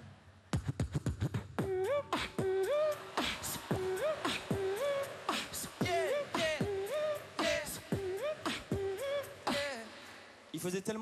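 A human voice beatboxing an imitation of a 2000s French nightclub track, with rapid percussive kick and snare clicks under a repeating whistled synth-like melodic line, close and loud, steady rhythm throughout with no spoken words.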